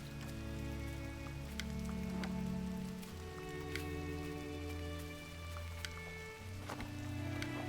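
Rain falling in the video game Gris, a soft steady patter of drops over layered, sustained ambient music tones, with occasional brighter droplet taps and no talking.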